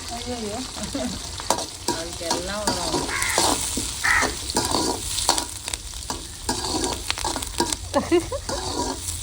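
Curry leaves and onions frying in a pan during village-style cooking of goat intestine curry, a steady sizzle and stirring clatter running throughout, with people talking and laughing over it and crows cawing nearby.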